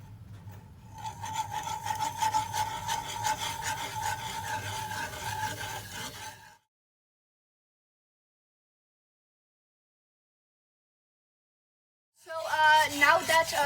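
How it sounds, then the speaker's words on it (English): Vegetable broth being whisked into an olive oil and paprika sauce for patatas bravas, a steady close scraping and rubbing that runs for about six seconds, stops to silence, then starts again briefly. "slowly start adding in the vegetable broth while continuously whisking in order to get a sauce consistency"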